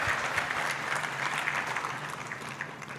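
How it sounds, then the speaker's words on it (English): Audience applause at the Kenya Red Cross Volunteer Awards, a steady wash of many hands clapping together, moderately loud and continuous throughout, with no speech over it. "a round of applause for yourselves"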